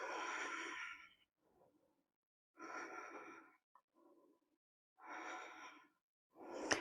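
Deep, slow breaths during a vinyasa yoga session, several long audible inhales and exhales heard close and soft in a steady rhythm, separated by quiet pauses.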